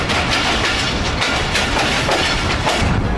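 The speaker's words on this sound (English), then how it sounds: "This train passing through their town must be the highlight of the day." A train rolls through a town near Shikarpur, Pakistan, loud and close, with a continuous rumbling roar and rhythmic clickety-clack of wheels over rail joints, no voices.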